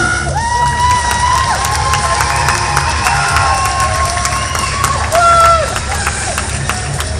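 At a Sweet Loligoth fashion show during the Japan Addict XVI convention, a crowd cheers, whistles and shouts loudly for the organiser, a dense and sustained burst of audience noise.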